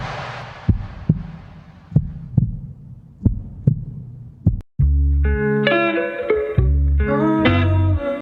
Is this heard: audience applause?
no